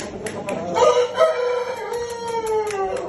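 Chickens and chicks outdoors: a rooster crows in a long drawn-out call while hens cluck and chicks peep in short bursts, loud and close, with no talking.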